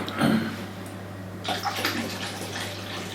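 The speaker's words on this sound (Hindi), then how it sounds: "इसमें थोड़ा सा गर्म पानी ऐड कर लें" Hot water poured into a foot-soaking tub, a short splash followed by a steady gurgling pour over a low constant hum.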